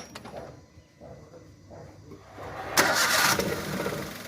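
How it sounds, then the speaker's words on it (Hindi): A Maruti Alto K10 with a misfiring engine cranks briefly and then catches, settling into a louder, rough running note close by, with a few clicks and knocks before it starts. "गाड़ी को स्टार्ट करके देखते हैं मैनुअली"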